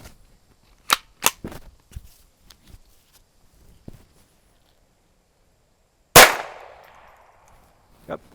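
A Ruger 22 Charger .22 pistol gives a few quick, sharp shots, then clicks and handling noises, followed by one louder, ringing shot and a final click.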